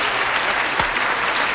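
A studio audience on a game show breaks into a short burst of dense, lively applause, loud and even throughout, with a brief low thump in the middle.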